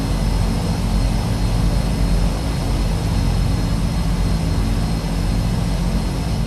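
Twin Otter turboprop engine spooling up in Microsoft Flight Simulator, a loud, steady roar with a low rumble that fills the whole stretch without letup.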